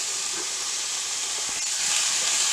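Peppers frying with onions in a pan, a steady, fairly loud broadband sizzle and hiss that continues without a break.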